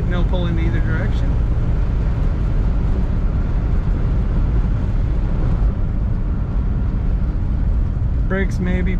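A 1957 Cadillac Series 62 Convertible cruises along a road, its engine and road noise forming a continuous, even drone, with short bursts of talking at the beginning and near the end.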